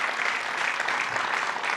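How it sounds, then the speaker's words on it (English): An audience at a sponsorship talk gives a short burst of steady, close applause, the hand claps blending into an even wash with no voices. "Give a round of applause."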